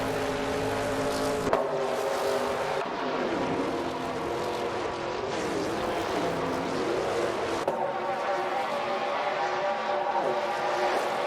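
NASCAR-style race cars in a racing video game, engines droning loudly and continuously as they drive close together, with pitch swells and dips as the pack passes through the track.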